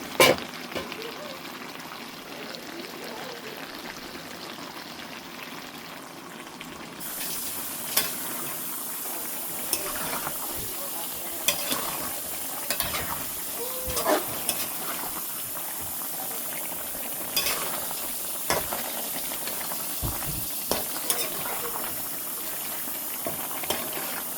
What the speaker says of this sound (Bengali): এই তো এখন আমি একটু নেড়ে দেব।